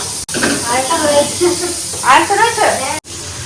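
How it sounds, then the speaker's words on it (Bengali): Bitter gourd frying in oil in a home kitchen pan, giving a steady sizzling hiss underneath someone speaking throughout, with two brief dropouts. "ওর জন্য দুটো করলা দিয়ে করলা ভাজা করা হচ্ছে"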